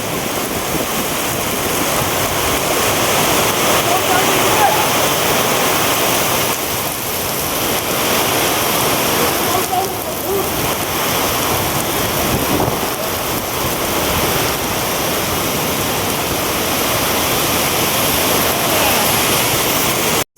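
After the depot's first heavy rain, floodwater rushes past nearby in a loud, steady roar that holds unbroken for the whole stretch, with no clear voices above it.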